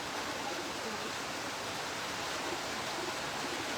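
Floodwaters of a river rush past in Marilao, Bulacan, a steady, broad roar of flowing water with no breaks, close and continuous.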